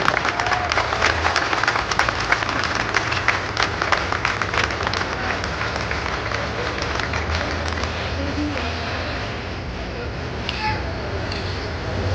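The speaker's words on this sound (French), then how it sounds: "je voudrais qu'on applaudisse une nouvelle fois les vainqueurs de cette épreuve, Tony Cosson et Kevin Millet." Spectators at the Dieppe Normandie rally podium applaud the winning crew outdoors, a steady crowd clapping mixed with murmuring voices and scattered shouts.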